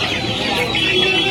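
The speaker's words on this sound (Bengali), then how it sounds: "কাকু এগুলো কি মুরগি আছে?" Chickens clucking at a busy poultry market in Uluberia, Howrah, a steady crowded chorus of fowl calls that runs throughout with no pause.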